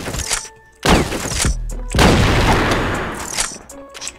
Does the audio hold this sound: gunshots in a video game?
yes